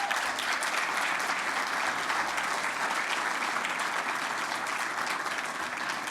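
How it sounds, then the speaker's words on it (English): Continuous audience applause for honorees at a civil society awards evening, a dense, even wash of clapping that holds steady to the end. "Let's again have one round of applause for our honorees tonight."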